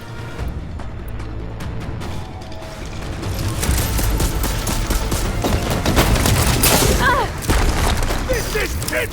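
Gunfire in Horizon Forbidden West's Burning Shores expansion, rapid bursts of shots and booms that thicken into dense overlapping fire and impacts, loud and close, with a voice talking over the din.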